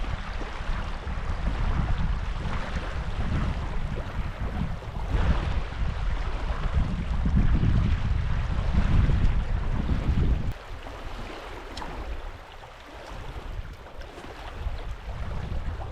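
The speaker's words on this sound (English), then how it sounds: "Just have to wait for the wind to ease off now" Strong wind buffets the microphone at sea off a New Zealand coast, a steady loud roar of gusts and surf that swells and eases without a break, with no voices.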